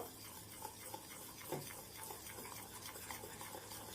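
A malai mixture made with milk powder is stirred, giving a faint, steady scraping with soft utensil taps against the pan. It stays quiet throughout, with no voices.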